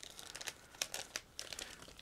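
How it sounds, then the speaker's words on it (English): A resealable plastic bag from a 1/35-scale motorcycle model kit crinkles and rustles close up in a quiet room, with soft irregular crackles and tearing rasps and no talking. "And now I'm opening the resealable plastic bag,"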